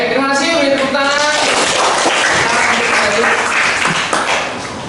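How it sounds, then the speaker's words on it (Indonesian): A high school class applauds after a presentation: a short burst of dense clapping from a group, briefly preceded by a voice and fading toward the end. "Beri tepuk tangan."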